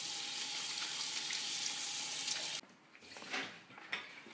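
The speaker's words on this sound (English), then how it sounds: "Okay, so we wash these mushrooms." Mushrooms are rinsed in a colander under running water, a steady broadband rush of flowing water lasting about two and a half seconds, then cutting off into quieter handling noises and a few soft splashes.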